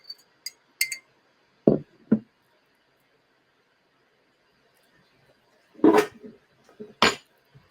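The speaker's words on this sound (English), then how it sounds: "Let's give it a nice little stir." Ginger is stirred in a glass pot, giving a few sparse clinks and knocks in separate groups with quiet gaps between them.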